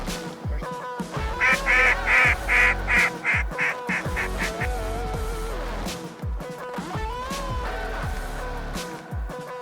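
Ducks quack loudly and repeatedly in a rapid series during a waterfowl hunt, with honking calls and several sharp bursts, maybe shots, overlapping the calls throughout.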